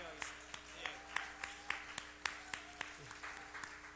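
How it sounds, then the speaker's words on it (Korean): A church youth congregation claps to welcome a deacon, giving a light, fairly even round of applause heard from across the room, with some crisp individual claps standing out. "박수로 환영하겠습니다"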